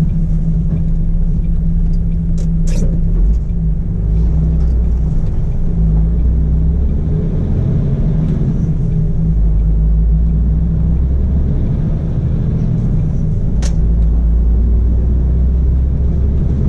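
A car cruising on a French motorway heading for Le Mans gives a steady, loud, low road rumble with constant engine drone and a couple of brief high clicks inside the cabin.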